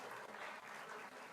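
Audience applause at a yoga festival at a yoga university, following a performance; a short burst of dense, distant-sounding clapping, steady and fairly soft throughout.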